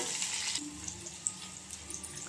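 Onions frying in a pan with garlic and green chili, a soft steady sizzle with light crackles and a few clinks, fairly quiet and close, with no talking.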